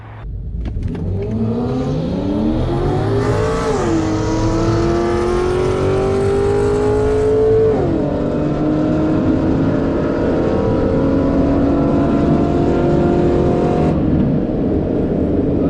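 A BMW M235i accelerating hard at a track day drag race against a 2006 GTO, loud engine whine climbing through gear shifts, heard from inside the car, with no talking.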